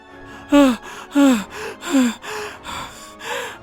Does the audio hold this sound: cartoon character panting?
yes